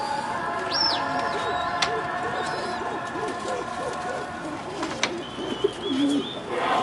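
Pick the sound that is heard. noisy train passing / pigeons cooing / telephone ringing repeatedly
pigeons cooing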